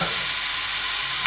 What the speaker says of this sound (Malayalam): ഞാൻ ഇതിലേക്ക് നമ്മുടെ തക്കാളി ചോപ്പ് ചെയ്ത് വെച്ചില്ലേ അത് ഇടുകയാണ്.